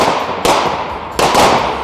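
Handguns fired by police cadets on an outdoor firing range, with two sharp loud reports about three-quarters of a second apart, heard over a constant roar of background noise with no talking.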